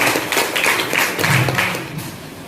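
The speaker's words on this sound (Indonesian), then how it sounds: "Beri tepuk tangan untuk ketiga narasumber kita." Brief round of applause from an audience at a student election dialogue event, moderately loud and fading toward the end.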